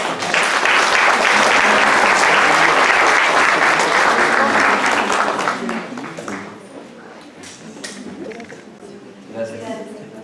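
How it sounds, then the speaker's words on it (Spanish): Loud, full applause from an audience at a nursing leadership conference session, strong and continuous for about five seconds before thinning into scattered claps and murmuring. "Un fuerte aplauso."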